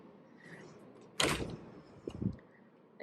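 Double armoire door in a Las Vegas Luxor hotel room opening with a quiet knock and a sliding wooden scrape, followed by a softer second rattle in a still room.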